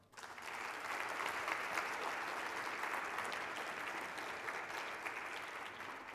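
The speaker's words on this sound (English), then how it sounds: "Please join me in a round of applause for these great legacy employer partners" Steady, dense applause from an audience at a 100th anniversary celebration of cooperative education. It swells quickly to a full, even roar of many hands and holds for about six seconds without voices.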